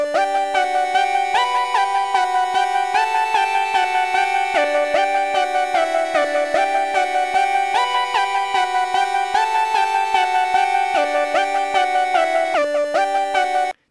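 Synth track from an Ableton music project, a loud sustained polyphonic synthesizer with stepping chord changes and a steady pulsing rhythm, playing alone for the whole stretch.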